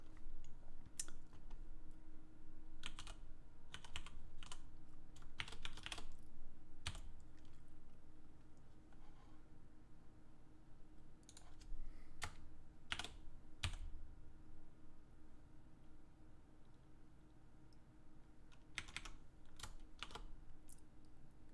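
Continuous typing on a computer keyboard during a computer science livestream, steady clusters of clicks and key taps at close range throughout, with no speech.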